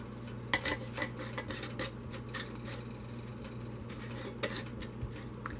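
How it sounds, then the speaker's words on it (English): Hot metal canning lid and ring lifted out of a pot, clinking and scraping in a series of light metallic clatters against a steady low background hum. "Get me a hot ring or hot lid out."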